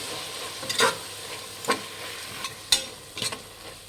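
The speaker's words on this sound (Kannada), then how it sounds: "ಚೆನ್ನಾಗಿ ಫ್ರೈ ಮಾಡಿ." Fenugreek leaves fried in a pan for rice bath, with a low sizzle under several sharp spatula scrapes spaced about a second apart.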